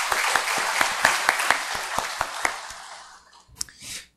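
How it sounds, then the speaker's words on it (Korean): Congregation applauding during a church worship service: dense, steady clapping from many hands at close range for about three seconds, thinning out and ending with a few scattered final claps. "하나님께 영광의 박수 올려드리겠습니다."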